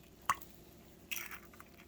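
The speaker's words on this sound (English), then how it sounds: "We're going to crack our egg." An egg cracked into a bowl of pancake batter: a sharp crack followed a moment later by a wet, squishy spill, both close and brief against a quiet room.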